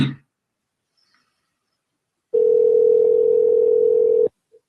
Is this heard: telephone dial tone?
yes